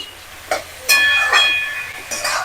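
A utensil stirs radish curry (mulo ghonto) with raisins in a pan: a few short, close scraping strokes with brief metallic squeaks, separated by quiet pauses.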